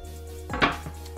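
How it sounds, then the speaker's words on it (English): A knife chops vegetables on a wooden cutting board set over a kitchen counter. A few close, sharp strikes land in quick succession over a steady low background hum. "Set it over the counter, chop up your vegetables, slide it off."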